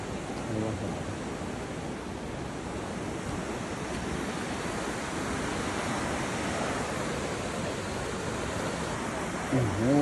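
A steady roar of a river rushing under Daily Bridge in eastern Nepal fills the scene, broad and continuous, with wind buffeting the microphone and a brief voice near the end.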